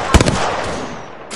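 Gunfire in a video game: a quick cluster of loud, close shots at the very start, trailing into a rumbling echo that fades away.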